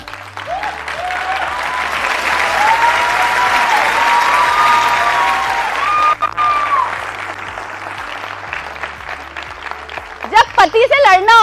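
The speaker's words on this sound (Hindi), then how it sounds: "हमारी ताली कैसे बज रही है?" A seminar audience claps loudly and steadily for several seconds as a broad wash of applause, with a speaker's voice running over it and rising near the end.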